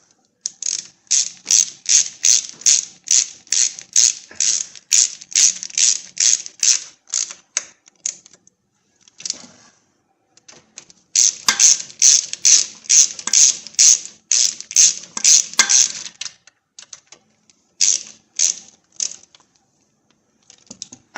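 Ratchet tightening bolts on the differential of a 2002 Chevy S-10 ZR2: rapid, loud, close clicking in long repeated bursts, with short pauses between runs.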